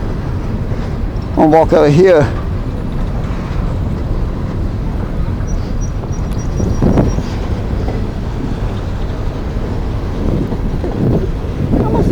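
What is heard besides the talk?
long coal train passing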